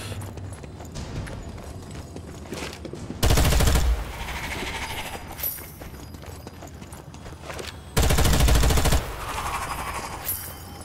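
A secondary weapon in the Strange Brigade video game fires in two loud, dense bursts of rapid shots, each lasting about a second, separated by quieter game ambience with no speech.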